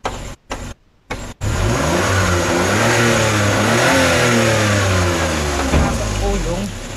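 A Suzuki DA63T Multicab engine revs up and holds a rising, roaring pitch after a few brief sputters at the start, loud and close.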